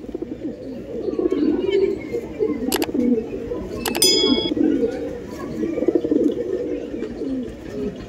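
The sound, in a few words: Andhra Lambadi pigeons cooing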